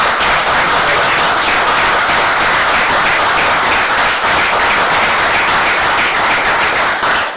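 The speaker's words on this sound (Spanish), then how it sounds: "te mereces un fuerte aplauso" Loud, sustained audience applause after a talk at a Spanish cultural evening, a dense, even roar of clapping from a full room that continues unbroken and close.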